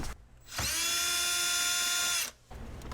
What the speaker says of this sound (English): you could use a power tool like this